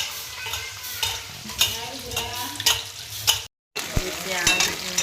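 Chopped onions fry in a pan with a bright, crackling sizzle and repeated scraping stirs, close by, with a brief dropout near the end before the frying resumes.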